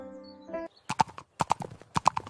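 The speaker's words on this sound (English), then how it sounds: "I ride the horse." A ridden horse's hooves clip-clop on a farm in a steady rhythm of sharp, close knocks, grouped in pairs, after a brief tonal sound at the start.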